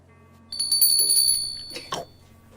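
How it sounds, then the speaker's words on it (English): Customer warning bell in a shop in a radio drama: a close, bright metallic bell rings once with a shimmering decay, then a short burst of clattering sound follows. "the customer warning bell rings"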